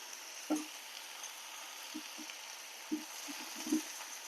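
A spoon stirs green gram porridge cooked with tamarind leaves in a pot, giving a few soft, scattered scrapes over a steady low sizzling hiss.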